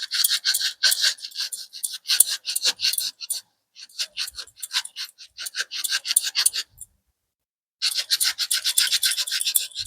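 An iron scrubber scours a burnt gas burner in fast, gritty rasping strokes, loud and close, in bursts broken by short pauses and one longer silence before the scrubbing resumes.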